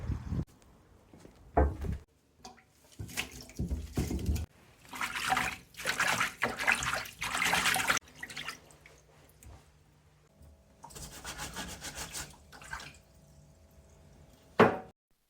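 Clay-covered wood avens roots are washed by hand in water, giving intermittent sloshing, swishing bursts and drips with pauses between, close and fairly loud.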